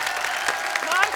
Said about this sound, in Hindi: एक बार जस्सी बाजी के लिए जोरदार तालियां।